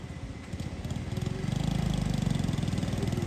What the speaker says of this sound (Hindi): मेरा मोटरसाइकिल जो है ना वो आप ले जाओ और हो आओ